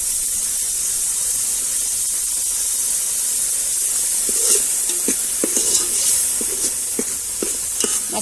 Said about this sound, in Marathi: मसाला चांगला भाजतोय.